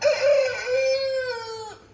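A rooster crows once in the early morning at a pilgrimage town, a long, loud, drawn-out call lasting nearly two seconds before cutting off into quiet.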